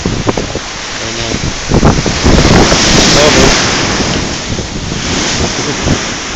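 Violent ocean surf and strong wind during Hurricane Sandy on Staten Island, New York, with heavy wind buffeting the microphone over a constant roar of crashing waves that swells in the middle.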